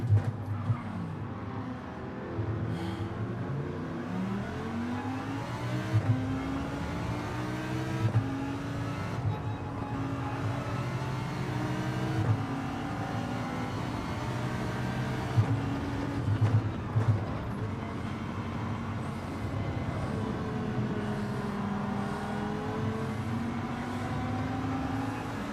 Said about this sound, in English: Car just driving through me